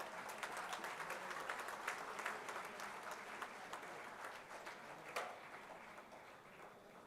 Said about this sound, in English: Big cheer from the pharmacy school here,